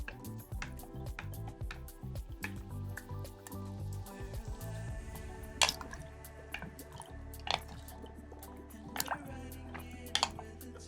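Brown sugar being stirred into pineapple ferment liquid in a vessel for tepache, giving soft liquid swishes and drips with a few sharper clinks, close and fairly quiet, with no talking.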